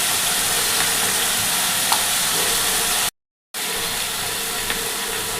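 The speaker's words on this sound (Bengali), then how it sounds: "এগুলোকে আমি আবার ভালো করে নেড়ে নেব।" Cauliflower with chopped ginger and a little turmeric frying in a pan as it is stirred, a continuous close sizzle with faint scraping, broken by a brief gap of silence partway through.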